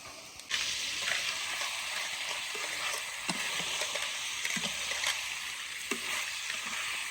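Eggplant pieces fry in a pan with a steady, loud sizzle that starts as they go in and carries on unbroken, with occasional soft stirring knocks and clinks.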